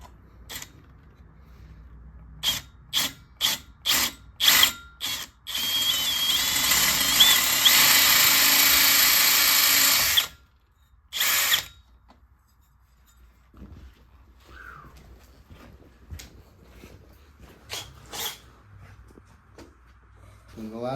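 Power drill boring out a rivet hole with the next bigger bit while fitting a CYC X1 Pro, heard as repeated short drill bursts followed by one sustained run of about five seconds, close and loud, then quieter handling noise.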